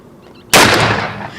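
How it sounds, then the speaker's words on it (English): A single loud, close .41 Remington Magnum gunshot striking an orange soda bottle at an outdoor range, a sharp crack after a quiet moment that trails off into a long, fading roar. "Let's see what kind of explosive action we get from the underappreciated 41 mag on that orange soda bottle."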